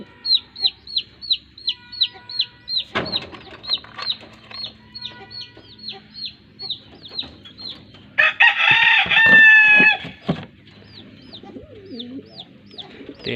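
Several roosters crowing in a steady repeating series, with fowl clucking and a louder burst of crowing and squawking partway through, all fairly close with no talking.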